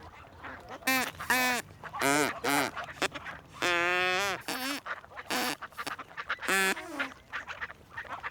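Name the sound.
straw duck call imitating duck quacks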